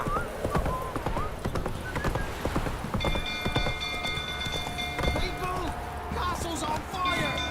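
Horse hooves clip-clop at a gallop in The Witcher 3, a steady rapid beat with occasional whinnies and light rain, while a voice speaks over it.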